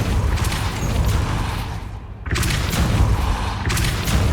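A Depulso force spell cast in the video game Hogwarts Legacy, heard as a loud, dense booming blast that cuts out briefly and then surges back as a second heavy burst.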